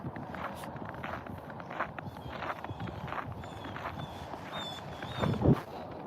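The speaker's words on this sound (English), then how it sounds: "The sound of my feet walking on the snow, it feels so good." Footsteps crunch on snow outdoors in a steady walking rhythm, close and soft, with light wind in the background and one louder step near the end.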